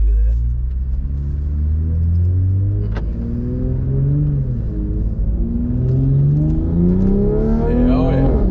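A tuned 2020 Toyota GR Supra engine pulls hard and loud through rising and falling revs, its harmonics sweeping up with each gear; a voice speaks briefly over the steady roar.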